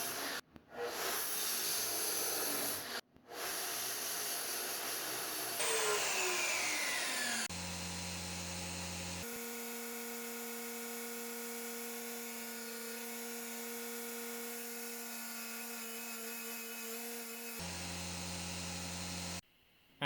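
Ends of cut metal pieces for a tractor battery hold-down are cleaned up, giving a loud, continuous hissing grind that drops out briefly twice, then settles into a steadier humming whine before a short final burst.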